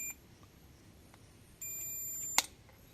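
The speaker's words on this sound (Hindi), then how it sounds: "उस लो रीडिंग की वजह से यहाँ पर हमें बीप साउंड देखने को मिल रहा है।" Multimeter continuity beep sounding while a T15U50S 15 A 50 V Schottky diode is tested with reversed probe polarity; a steady high electronic tone holds for almost a second, closing with a sharp click, against quiet background hiss.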